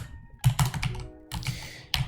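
Fingers type on a computer keyboard while entering Java code, with quick bursts of clicking keystrokes broken by short pauses, close and distinct with no talk.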